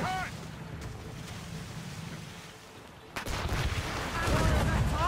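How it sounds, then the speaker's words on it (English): Cannon volley fire on a ship in Assassin's Creed Rogue, with a quieter stretch of distant booms before a sudden loud barrage of heavy shots near the end, under faint shouting voices. "They are firing a volley!"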